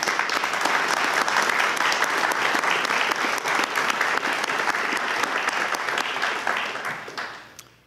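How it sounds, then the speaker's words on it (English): Sustained audience applause at a philosophy symposium on Karl Popper, a dense steady clapping from a large room that holds loud throughout and fades out at the very end. "I want to lead us in a round of applause to say thank you."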